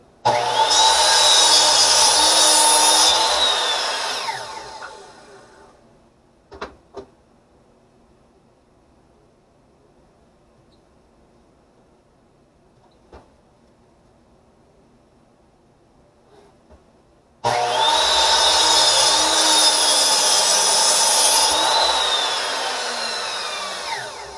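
A power saw with an old blade cuts through wood for a board, with two loud whining bursts of sawing separated by a long quiet gap holding a few faint knocks and clicks.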